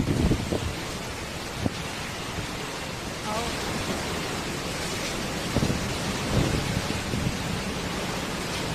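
Cyclone Tauktae batters the shore with wind gusting up to 190 and heavy rain. The roar is loud and continuous, with rushing wind, sheeting rain and occasional heavier thumps and gusts throughout.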